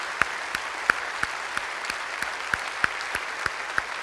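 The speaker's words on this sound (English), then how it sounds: "Could you please give them a round of applause?" Sparse applause from a small audience at a guest teacher's talk, a handful of distinct claps landing in a loose, steady rhythm at moderate distance, with no voices over it.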